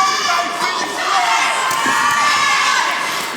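Spectators at an ANTIDOTE fight night in Southampton shout and cheer in a continuous, loud wash of crowd noise, with individual voices bursting out of the din.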